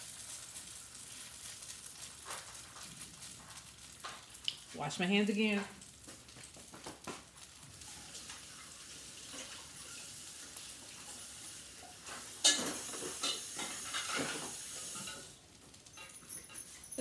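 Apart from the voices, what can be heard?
salmon croquettes frying in a pan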